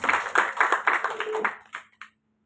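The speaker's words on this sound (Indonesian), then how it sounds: "Tepuk tangan buat Yesus." A church congregation clapping for Jesus in a sermon service, a rhythmic burst of claps that thins out and stops with a couple of final stray claps before silence.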